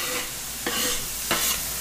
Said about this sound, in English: Getting some good frying sounds back.